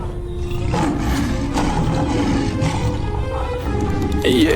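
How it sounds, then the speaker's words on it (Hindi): A lion roars in a dense forest, a deep drawn-out growl rising over a continuous dramatic backdrop, loud and close, with a voice speaking over part of it. "ये तो शेर की आवाज है।"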